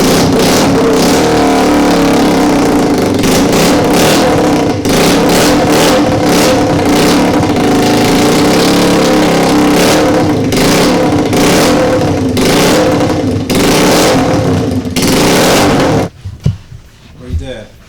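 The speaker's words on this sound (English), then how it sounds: "it's time to run the engine" A Suzuki 125cc custom bobber motorcycle runs steadily with loud, continuous engine noise and repeated revving surges, then cuts off abruptly near the end, leaving a few faint clunks.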